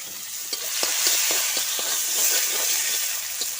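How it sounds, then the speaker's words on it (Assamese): Onions fry in hot oil in a pan with a continuous bright sizzle, broken by a series of soft scraping stirs at an uneven rhythm, close and fairly loud, with no voices. "আৰু এতিয়া মই পিঁয়াজ ঢালিছোঁ"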